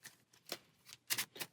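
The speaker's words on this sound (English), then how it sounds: "and I will officially shuffle" A deck of Marvel Champions game cards being shuffled makes a few quiet, brisk riffling bursts with short gaps between, close and soft, with no talking.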